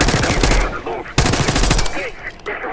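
Rapid automatic gunfire in the video game Call of Duty: Black Ops 6, two loud close bursts of machine-gun fire with a brief gap between them.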